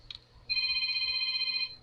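A phone rings indoors with a clear electronic tone, a short blip followed by a sustained ring heard close and moderately loud.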